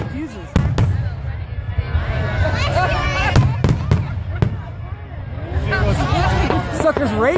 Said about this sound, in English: I don't know if they can stop the fireworks if they're going.